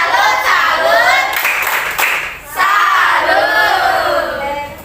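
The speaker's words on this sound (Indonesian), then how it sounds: "Kita berikan tepuk salut." A class of schoolchildren shouts a rhythmic clapping cheer together in a classroom, loud and close, with bursts of voices and hand claps in short repeated phrases.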